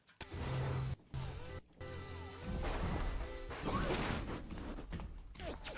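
Glass or similar shattering during a video game shootout, with a loud crash and busy clattering debris and impacts filling several seconds amid game noise.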